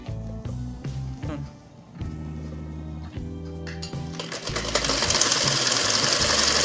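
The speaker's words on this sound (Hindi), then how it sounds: "इसी तरह दोनों साइडों पे सिलाई लगा लेनी है।" An electric sewing machine stitches the side seams of a shalwar, running in loud mechanical whirring bursts with short pauses before a louder, noisier stretch near the end.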